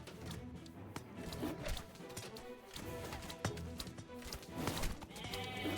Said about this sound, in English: There are some fattened up goats.